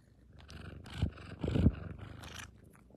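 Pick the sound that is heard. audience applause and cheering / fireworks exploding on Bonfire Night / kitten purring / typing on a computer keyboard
kitten purring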